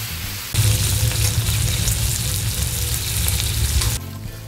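Six slices of cherry wood smoked bacon fry on a 36-inch Blackstone flat top griddle, giving a loud, steady, crackling sizzle that starts abruptly and runs almost to the end without talk.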